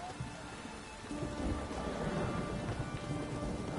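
Rain and rolling thunder in The Witcher 3, a steady hiss of rainfall with a low rumble that swells partway through and stays heavy to the end, fairly quiet overall.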